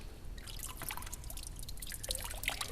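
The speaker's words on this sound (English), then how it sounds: "he has me doing this in this sometimes where I'm doing these sort of water drips" A percussionist makes water-drip sounds in Tan Dun's Water Concerto, scattered bright plinks and drips falling irregularly over a quiet, faint background.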